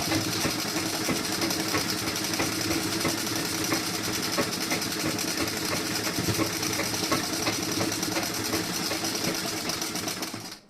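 Sewing machine running steadily while stitching the front part of a blouse, a dense continuous mechanical whir, close and loud, stopping right at the end.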